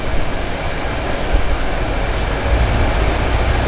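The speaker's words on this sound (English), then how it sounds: "Couple of trains." Trains roll past near Ensenada, a loud, steady low rumble of rail cars lasting throughout with no break, close and continuous.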